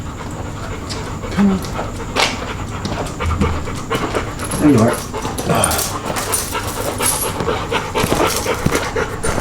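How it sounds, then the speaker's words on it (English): A dog pants heavily and close by after a walk, with quick rhythmic breaths and a faint whimper, while someone speaks briefly nearby. "as you can tell by my dog right there, we went for a walk right now."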